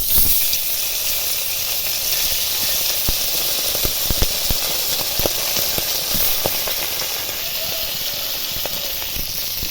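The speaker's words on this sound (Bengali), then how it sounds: "কড়াইয়ের মধ্যে তেল দিয়ে ভালোভাবে গরম করে নিয়েছি এবার মাছগুলো ভেজে নেব" Salted, turmeric-rubbed fish frying in hot oil in a wok, giving a loud, steady, close hiss that lasts the whole stretch, with faint ticks and pops scattered through it and no voices.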